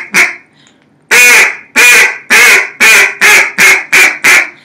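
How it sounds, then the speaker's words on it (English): A hand-blown duck call gives one short quack, a pause, then eight loud raspy quacks in a quickening series that rises in pace toward the end, close to the listener. "and then you just turn it into a series of quacks where you go"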